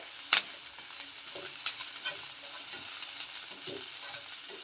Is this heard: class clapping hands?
no